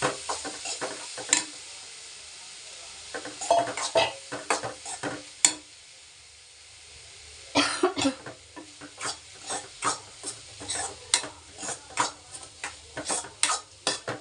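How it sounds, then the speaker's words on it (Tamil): Squeezed puffed rice being stirred into sautéing masala for spicy pori, a long run of loud, rhythmic scraping and clattering spoon strokes against the pan over a soft sizzle, with a short pause partway. "இந்த பிழிஞ்சு வச்ச பொரிய இந்த மசாலா நம்ம வதக்கிறோம் இல்லைங்களா அதில் ஆட் பண்ணிக்கணும்"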